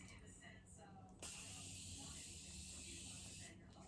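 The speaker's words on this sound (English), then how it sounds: "I'm gonna go ahead and just spray this side of the face." A setting spray mist hisses steadily from a bottle for a couple of seconds, close by and fairly loud, after a quieter stretch of background noise.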